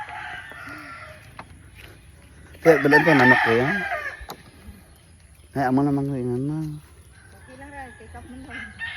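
A rooster crows loudly twice, with clucking hens around it; people talk nearby between the crows.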